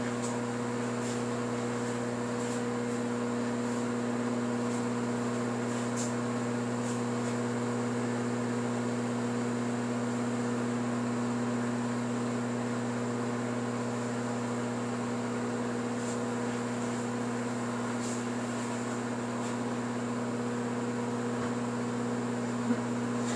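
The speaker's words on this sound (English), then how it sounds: "hearing a little bit of popping. That is okay. It's just your veggies cooking." A microwave hums steadily and continuously, with a few faint scattered pops and ticks of vegetables steaming inside, no voices.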